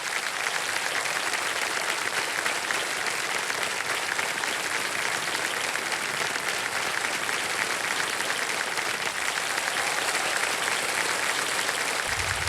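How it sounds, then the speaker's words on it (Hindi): Loud, sustained applause from a large studio audience on the quiz show Kaun Banega Crorepati fills the whole stretch, dense and steady without pause. "एक बार जोरदार तालियां बज जाए इनके लिए"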